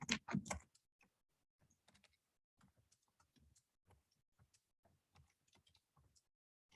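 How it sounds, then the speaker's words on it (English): Quiet clicks of a computer keyboard as text is typed, an irregular run of light keystrokes after a louder cluster at the start, close-miked and isolated without speech. "what I can do is just type some text"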